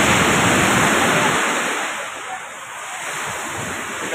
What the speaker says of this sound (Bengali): পানির যে ব্যাপকতা ঢেউ, তা আজকে সকালে জোয়ার আসার পরে আমরা বুঝতে পারলাম যে এত বিকট শব্দ এবং